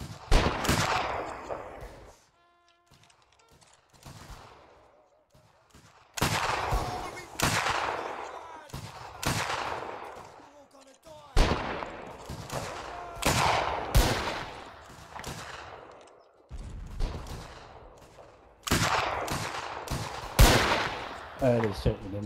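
Rifle volleys ring out in a Mount & Blade Warband battle event set in the Anglo-Zulu war, with repeated loud bursts of massed gunfire spread across the clip and voices talking between them.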